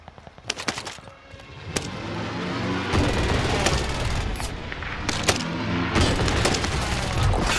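Heavy BAR rifle gunfire in a Warzone Rebirth match: sharp bursts of close, loud shots in quick rhythm, with booming explosions and dense battle noise sustained underneath.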